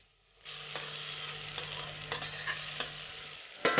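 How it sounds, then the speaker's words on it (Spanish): Half an onion and green pepper frying in a drop of oil in a saucepan, a constant close crackling sizzle that starts abruptly, with light stirring taps. "en un cazo con una gotita de aceite, vamos a poner la mitad de la cebolla y el pimiento verde"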